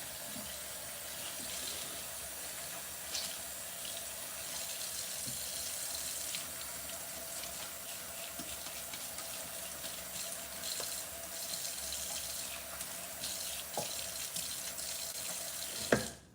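Tap water runs steadily into a sink while soap is rinsed off, a continuous faint wash of water that ends with a short knock.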